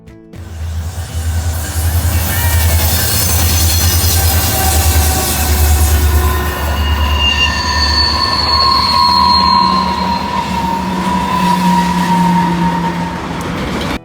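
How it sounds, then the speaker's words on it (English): An Alaska Railroad train passes Beluga Point, its steady rolling rumble and clatter loud and continuous for the whole stretch, with long high wheel squeals ringing out in the second half as the cars go by. "I was lucky enough to catch the Alaskan Railroad that goes by this photogenic spot"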